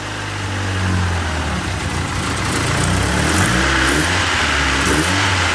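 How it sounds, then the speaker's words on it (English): A turbocharged Honda Civic with a D16Y8 engine idles with a slightly lopey rhythm, a close, steady engine drone that swells a little partway through, no voices. "the idle's a little lopey"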